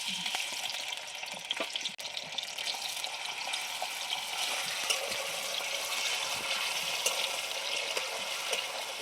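Tomatoes fry in hot oil for a coconut, green chilli and coriander chutney, making a dense, continuous close sizzle that stays loud and even with no speech.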